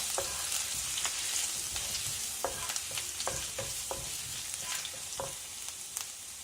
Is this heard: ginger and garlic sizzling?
yes